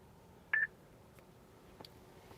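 Short electronic beep from a 2017-2018 Subaru Impreza's voice command system inside the car cabin, a single clear tone followed later by a faint click.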